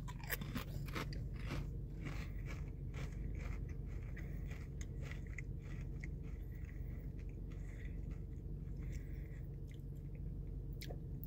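Pringles Pizza Flavored potato chips being eaten, with close, loud crunching and chewing in a steady stream of crisp bites and crackles, no talking.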